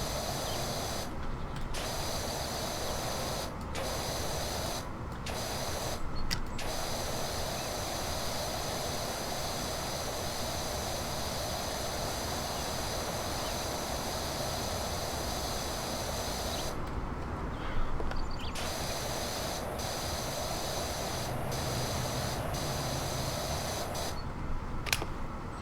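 A power washer sprays in Powerwash Simulator, giving a steady, loud, broadband hiss that runs continuously, with a few brief dips where the high spray noise cuts out for a moment.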